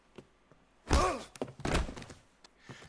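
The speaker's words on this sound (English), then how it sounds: "He's just getting punched in the back of the head." Punches land in a street brawl in the video game L.A. Noire, set in 1940s Los Angeles: a heavy thud near one second, then a few rougher blows and grunts, all close and loud.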